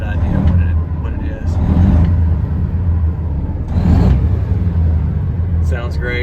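A 2015 Freightliner Coronado glider kit truck with a pre-emission engine idles with a low, steady diesel rumble, close and loud throughout, while someone talks over it.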